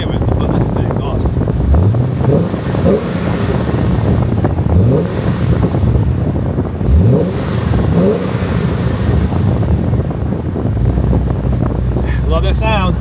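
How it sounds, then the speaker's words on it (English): A Pontiac G8's exhaust rumbles outdoors, rising in several quick revving sweeps over a steady low drone, with heavy wind buffeting the microphone throughout. "But anyway, this is the exhaust."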